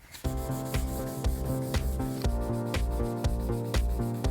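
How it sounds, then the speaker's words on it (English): Hand sanding an orange-tinged veneer finish on a chair with sandpaper, close rhythmic back-and-forth rasping strokes repeating steadily. "It's out with the sandpaper and the elbow grease."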